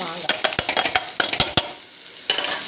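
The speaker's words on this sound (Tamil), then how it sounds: "பூண்டு இதெல்லாம் ரொம்ப லைட்டாக வதங்கினா போதும்" Garlic fries in oil for mango kootu, a soft steady sizzle broken by a quick series of sharp spoon-against-pan stirring clinks, close and clear with no talking.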